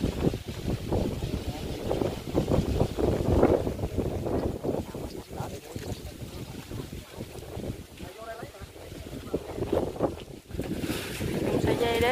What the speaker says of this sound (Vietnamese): Ôi, quá trời gió luôn, nó bay cái nón luôn.